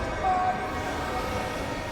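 A train carrying the player between areas in the video game Destiny 2 gives a steady, moderately loud rolling rumble with a faint tonal hum, continuous and even throughout with no voices over it.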